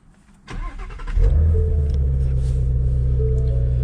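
A Ford Mustang GT350 V8 engine, already warm, cranks and roars to life after a brief quiet moment, settling into a deep, loud, steady rumbling idle close by.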